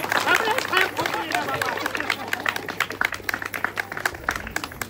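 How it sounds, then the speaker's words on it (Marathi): Loud, dense clapping from an audience at a village Paithani game show event, steady rapid claps over crowd chatter and a voice talking. "जोरदार टाळ्या."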